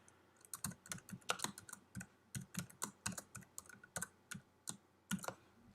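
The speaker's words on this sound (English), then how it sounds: "I've got to remember how to type on a QWERTY keyboard." Keys clatter on a QWERTY computer keyboard in a quiet room, a quick, uneven burst of close, crisp keystrokes with short pauses between clusters and no speech.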